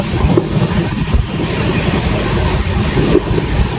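Howrah Pune Duronto Express runs through heavy rain, a dense continuous roar of wheels and rushing rain, loud and steady without pause.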